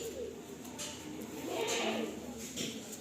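A baby pigeon held for sale gives soft, low coos, faint and close, with a murmur of voices and background noise around it.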